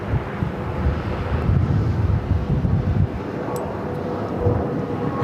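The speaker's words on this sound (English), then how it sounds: "Sounds like a medevac. Going around." A small medevac plane goes around at Phoenix Sky Harbor airport, its engine a steady, distant low rumble that stays buried under continuous wind buffeting the microphone throughout.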